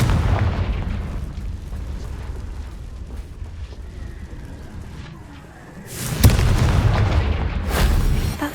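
Hogwarts Legacy's Confringo blasting curse detonates in a single loud, booming explosion that follows a rumbling build-up and leaves a heavy roaring tail.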